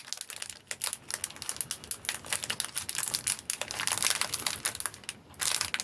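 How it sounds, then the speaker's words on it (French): A stuck candy cane being peeled off advent calendar packaging, heard as close, busy crinkling and crackling of plastic in rapid, irregular bursts. "Je suis toujours en train d'essayer de décoller mon sucre d'orge."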